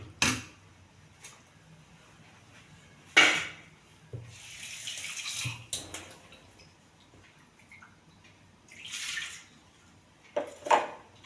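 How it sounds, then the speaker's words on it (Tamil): Water is poured and sizzles into a cooking pan holding ground coconut and cumin, coming in several short splashing bursts with quiet pauses between, moderately close. "கொஞ்சம் தண்ணி சேர்த்துக்கலாம்."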